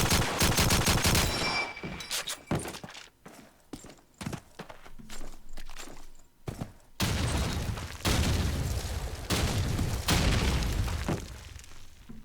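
Gunfire and explosions in a competitive first-person shooter LAN match, with a grenade blast among rapid bursts of shots and sharp impacts at close range, loud and dense throughout with brief quiet gaps.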